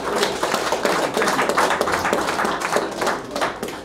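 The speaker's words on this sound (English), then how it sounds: "Give this man a round of applause" Audience at a calypso and soca entertainers tribute applauding for Mr. Claude Tate, loud, close, crisp clapping from many hands with distinct individual claps throughout, no talking over it.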